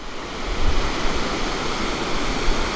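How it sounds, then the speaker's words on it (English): The very tall Rupse waterfall, fed directly from Dhaulagiri mountain in Nepal's Himalayas, pours as a loud, continuous broadband roar of rushing water, steady and close with no voices. "behind me is a very tall waterfall called the Rupse waterfall. It is flowing directly from the Dhaulagiri mountain."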